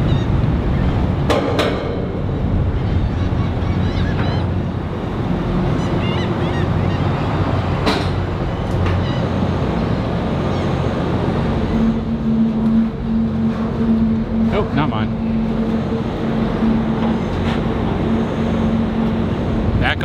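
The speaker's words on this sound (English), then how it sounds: "On the ferry." A car ferry ride near Crystal Beach carries a steady low engine rumble and broadband droning noise throughout, with occasional clunks and a sustained tonal hum rising in the second half.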